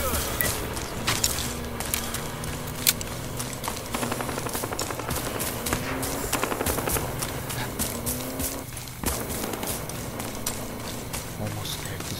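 Rapid automatic gunfire from the video game Battlefield Hardline rattles in dense bursts throughout, layered with impacts and other game effects, while a player talks over the action.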